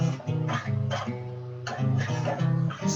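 An augmented scale built from thirds played on an instrument, a run of distinct, evenly spaced notes with clear attacks, moderately loud and close, with no talking.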